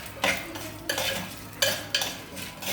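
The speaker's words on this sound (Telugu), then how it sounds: "ఇప్పుడు ఎండుమిర్చి కూడా వేసేసుకుందాం." Dried red chillies frying in hot tempering oil with lentils and mustard seeds, stirred with a metal spoon that scrapes the pan in several distinct strokes over a soft sizzle.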